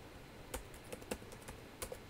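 Keys on a computer keyboard are struck in a short irregular burst of a few sharp clicks while commands are typed, close and fairly quiet, with no talk.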